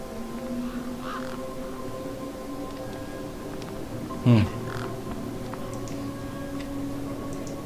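A large crow in the video game Beyond a Steel Sky gives a short harsh caw, loudest in the middle, over a steady hum of game ambience with faint ticking.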